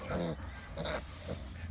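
A fat little pig on a family farm grunts and snorts in a few short bursts, close and fairly quiet, with breathy noises between them.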